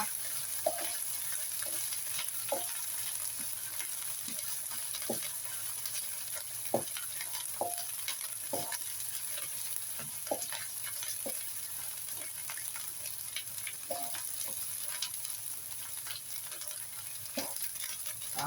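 Red curry paste stir-fried in a pan for a spicy pork belly dish, giving a steady low sizzle with scattered spatula scrapes and taps across the whole stretch, alone with no talking.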